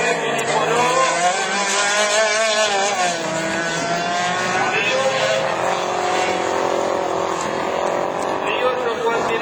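Division 4 two-wheel-drive rallycross race car at a French championship round in Lavaré, a loud, sustained engine roar rising and falling in pitch as it accelerates, with a commentator talking over it.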